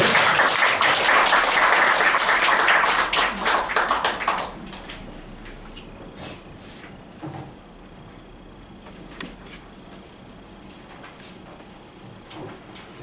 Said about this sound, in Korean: 한번 따뜻한 박수로 한번 맞아주시죠